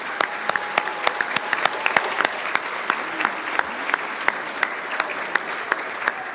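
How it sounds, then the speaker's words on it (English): Audience applause at a breast cancer charity kickoff event, a steady crowd clapping throughout with some sharper nearby claps standing out, moderately loud and continuous. "So let's give all of them a round of applause."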